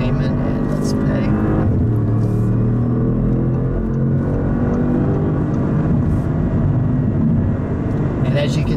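A 2016 Audi S6 turbo V8 is heard from the driving seat, a steady low engine drone rising in pitch as the car accelerates, with faint cabin noise and no clear talk.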